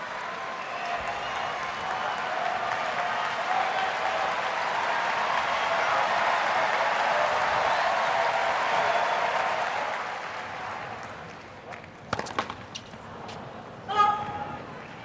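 Tennis crowd at the US Open in New York applauding during a 2023 third-round match, sustained broad clapping for about ten seconds that fades, followed by scattered claps and shouts.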